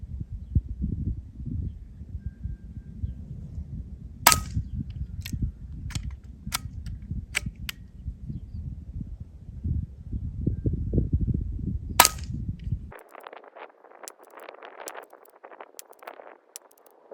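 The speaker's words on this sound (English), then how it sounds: "Take the safety off. And it's ready to shoot. Let's give it a little try." A Beeman 2027 air pistol fires pellets in a series of sharp, dry cracks spaced a second or two apart. The shots come over a low rumbling background, which gives way to faint hiss near the end.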